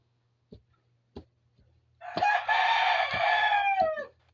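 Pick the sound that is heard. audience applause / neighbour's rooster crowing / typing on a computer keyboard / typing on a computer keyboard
neighbour's rooster crowing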